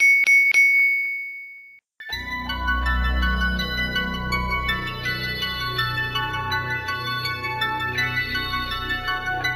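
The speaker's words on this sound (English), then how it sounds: "Ring the bell." A bright bell dings a few times alone during a Magic: The Gathering Commander podcast, then a sustained chiming, jingling mix of bell tones rings on steadily over a low rumble.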